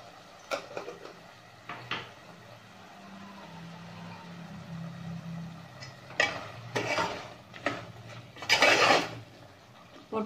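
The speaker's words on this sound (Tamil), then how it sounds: "மிளகுத்தூள் போட்டு நல்லா கலந்து விட்டாச்சு" A spoon stirring pepper powder into cooked chicken masala in a pan makes intermittent metallic scrapes and clinks, scattered and then busier toward the end, close by.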